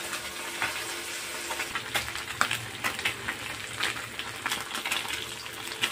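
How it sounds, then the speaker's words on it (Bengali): Small fish frying in oil in a wok, a steady, close crackling sizzle with bursts of spattering throughout, no voices. "আদা মাছ কড়াইয়ের মধ্যে আমি দিয়ে দিয়েছি ভাজার জন্য"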